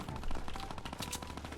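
Rapid video-game gunfire rattles in a steady automatic burst of closely spaced shots, loud and close throughout, while a player tries to dodge bullets by flipping.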